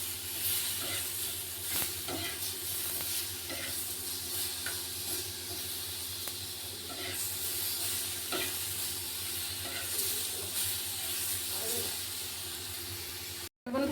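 Halved green chillies roasting in a pan for dhaba-style matar paneer, a steady low sizzle and hiss with occasional stirring scrapes and taps running throughout.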